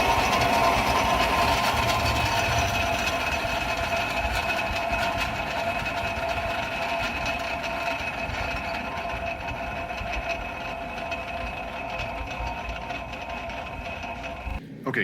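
A side draft forge hood blower over a coal blacksmith forge runs at full blast, giving a steady, loud mechanical whir and rushing air that holds constant throughout before cutting off abruptly at the very end.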